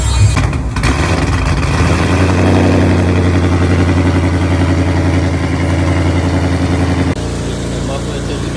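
A Dodge Hellcat with straight pipes and new carbon fiber muffler tips idles loud and close, a deep rumbling burble that holds steady before the sound drops off abruptly near the end.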